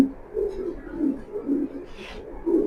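Racing pigeons coo close by in soft, low, repeated murmuring calls at a steady pulse, with a brief rustle partway through.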